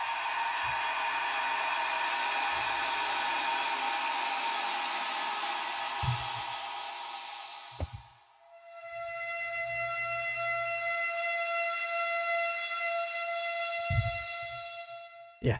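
Eerie sprite-scrape horror sound effect from the Presage Horror VST, a sustained bright, shimmering, tonal drone that dips briefly midway and then returns with steadier pitched layers, accompanied by faint low thumps.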